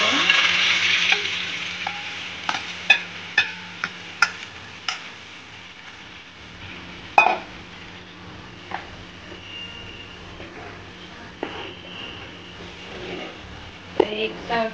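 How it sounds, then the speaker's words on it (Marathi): Rice flour batter being stirred in a hot kadhai with a spoonful of oil over medium flame, a soft steady sizzle with repeated sharp scraping knocks of the spoon against the pan, close and fairly quiet. "त्याच्यामध्ये आपण आता पीठ शिजवून घ्यायचं"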